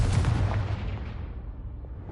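A Confringo fire spell from Hogwarts Legacy goes off as a single heavy, booming blast, loud at first with a deep low rumble that slowly fades over two seconds.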